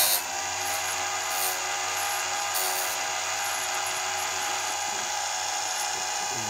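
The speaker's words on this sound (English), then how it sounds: "it still grinds after I've turned it on, I'm sort of thinking that the grinding wheel is just sort of slightly out of center" A bench grinding wheel sharpening the rakers of a chainsaw chain whines in a steady high-pitched drone, with faint scraping touches of metal against the slightly off-center wheel.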